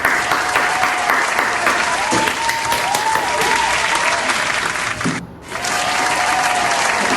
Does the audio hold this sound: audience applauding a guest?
yes